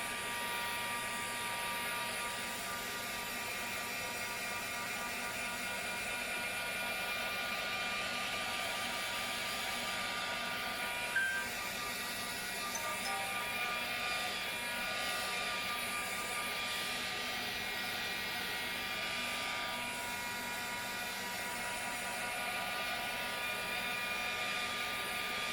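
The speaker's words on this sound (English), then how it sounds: "you can also use this heat gun to move the paint if you want to" A heat gun blows a steady, even hum with airy hiss over an acrylic paint pour on a lamp shade, continuous and close for the whole stretch with no speech.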